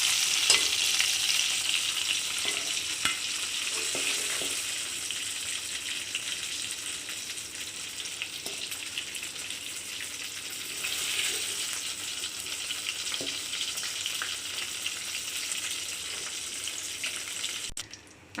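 Eggplant frying in oil for Tamil ennai kathirikkai kuzhambu, a continuous bright sizzle and crackle that holds steady for the whole stretch with occasional stirring.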